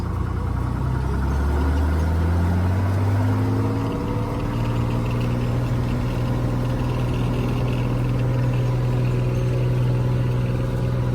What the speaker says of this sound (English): Skylane Dynamite Echo is departing from runway 17 Apex.